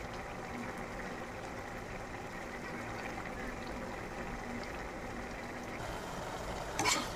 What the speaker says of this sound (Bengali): তরকারিটা ফুটছে আমার।